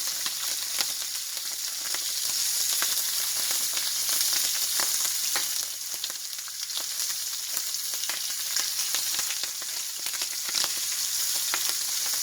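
Chicken and shrimp fry in oil in a stir-fry pan with a steady, close sizzle and dense crackling pops that run unbroken throughout, and no one speaks.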